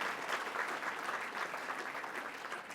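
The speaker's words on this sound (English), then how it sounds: "Let's give her a round of applause." Steady applause from an audience, a dense wash of clapping hands that stays even throughout, heard at a slight distance.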